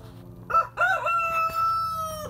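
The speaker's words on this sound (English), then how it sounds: "Chicken." A rooster crows in a drawn-out, wavering cock-a-doodle-doo, fairly close and clear over a low steady background hum, with no talking.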